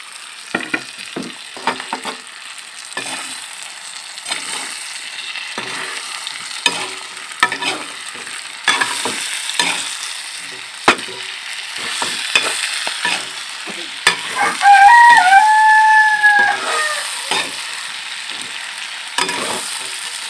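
Sliced ridge gourd fries in a pan with fish, stirred with repeated clattering scrapes of a spatula over a steady close sizzle, with a brief high squeak midway.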